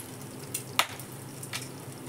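Cinnamon sticks and green cardamom pods fry in hot ghee, giving a quiet, crackly sizzle with a few sharp pops that stands alone without talk.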